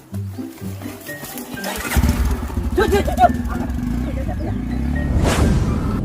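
A motorcycle engine revs and drones steadily under people talking, rising briefly louder near the end.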